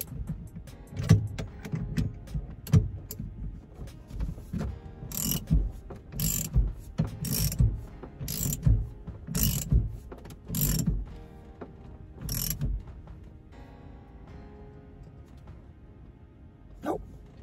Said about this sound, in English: I tighten down this steering wheel.